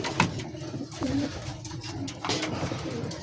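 Racing pigeons coo softly in a loft, giving a few low, throaty calls over a dense, noisy background of rustling and shuffling.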